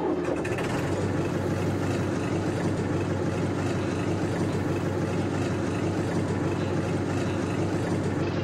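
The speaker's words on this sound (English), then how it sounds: "Let's turn it over so you guys can actually hear the engine sound." A Fiat 70c truck engine in the Farming Simulator video game runs with a steady, loud, rumbling drone, continuous and unchanging throughout without any talking.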